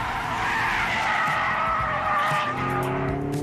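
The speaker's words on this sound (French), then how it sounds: "le Torque Kick Drift qui simule des à-coups d'embrayage pour impulser la dérive" A Hyundai Ioniq 5 N electric car drifts in Torque Kick Drift mode, which simulates clutch kicks, with loud, continuous tire squealing and skidding close by and a rising tonal whine near the end.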